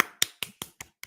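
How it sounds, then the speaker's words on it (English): Six crisp, evenly spaced hand claps in quick succession, close and clear with nothing else around them, a small round of applause from one person. "I just want to give Lou a round of applause"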